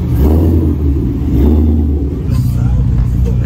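Car revving loudly as it rolls up to a Friday the 13th car meet, a heavy low engine rumble that swells and eases throughout, with people talking over it.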